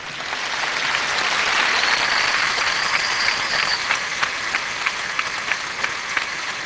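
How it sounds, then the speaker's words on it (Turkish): Audience applause after a call for a big round of clapping, loud and dense, thinning toward the end into scattered separate claps, with no voices over it. "Büyük bir alkış lütfen"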